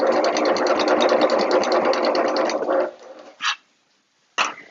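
A sewing machine runs steadily, stitching the curved bottom of a waxed canvas backpack lining at a 3/8-inch seam, then stops, followed by two short separate bursts of noise nearby.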